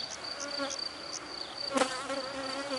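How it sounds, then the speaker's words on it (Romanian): Honeybees buzz steadily around a hive, with individual bees droning past close by over the continuous hum of the colony. "Albinuțele sunt destul de calme."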